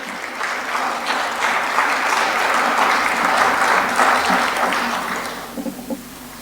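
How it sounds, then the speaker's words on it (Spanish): A conference audience at an international bicentennial event gives a speaker a loud, sustained round of applause. The dense clapping holds steady for several seconds, then thins into a few scattered final claps. "Le despedimos con un fuerte aplauso, por favor."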